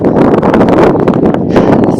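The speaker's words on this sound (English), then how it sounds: "Still windy as all hell." Strong winter headwind roars steadily against the microphone on an exposed road while cycling in France, a dense, unbroken buffeting rush with no voices.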